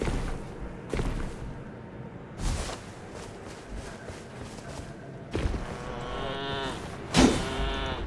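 Goats bleat in drawn-out, wavering calls between thumps and rustles in the video game Shadow of the Erdtree, the cries getting louder and closer toward the end.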